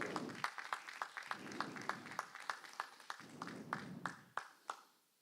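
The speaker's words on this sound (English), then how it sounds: "Please give a round of applause" A small crowd at an annual community event gives the organizers on the stage a round of applause: scattered claps in a modest stream, thinning to a few loud single claps before fading out.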